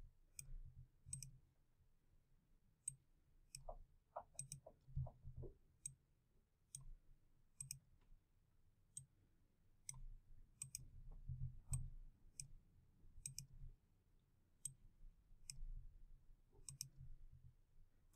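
Faint, sharp computer mouse clicks sound repeatedly at a steady, unhurried pace while borders are added in InDesign, close against a low, quiet room hum.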